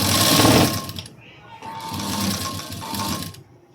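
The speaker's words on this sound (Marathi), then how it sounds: "आता इथे पहा मी सरळ शिलाई देऊन घेते।" Sewing machine running straight stitches along the square neckline of a blouse, a steady mechanical whir that stops and starts in short runs, fairly close and loud.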